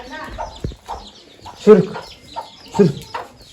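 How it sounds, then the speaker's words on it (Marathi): Several hens cluck nearby in short, bursty calls. They are spaced irregularly, some louder than others, and a person talks and calls out between them. "कोंबड्या बघ किती आले"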